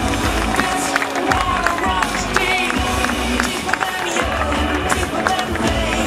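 A crowd applauds and cheers at a sailing regatta medal and trophy ceremony, a continuous dense wash of clapping with an announcer's voice over the top.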